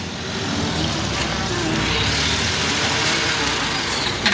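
A water tanker truck idles outside a mosque gate, its steady mid-low engine rumble continuous and fairly close throughout, with no speech over it.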